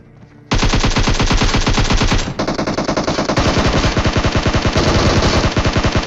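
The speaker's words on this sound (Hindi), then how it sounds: "एक्चुअली मैं इसको मारने के लिए प्री फायर किया, लेकिन मेरी गन रिलोड पे आ गई" Rapid automatic gunfire in a battle royale video game: a loud, sustained burst of fast, evenly spaced shots, broken by a short pause before the firing resumes.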